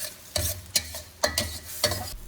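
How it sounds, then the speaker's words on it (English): Butter cream sauce for salted egg shrimp is stirred in a pan over medium heat: four or five close, distinct scraping strokes over a low bubbling sizzle, with no talking. "Continue to stir and make sure you stir it well so you don't burn the butter."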